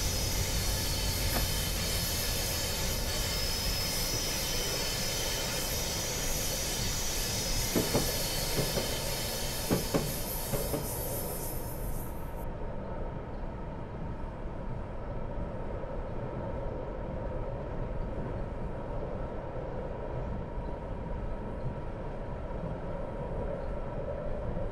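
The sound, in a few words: F59PH locomotive running in a train simulator video game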